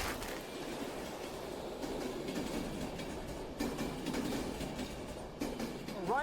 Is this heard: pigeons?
no